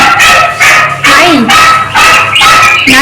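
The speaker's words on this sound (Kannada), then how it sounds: "ನಾಯಿ ಬೇರೆ" A dog barks loudly and close by, giving four sharp, evenly spaced barks mixed with whiny yips.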